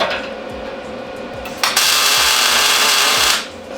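A tack weld goes onto a Ford 8.8 differential mount being fitted to a Miata, a loud crackling, hissing burst of about a second and a half, preceded by softer shop noise.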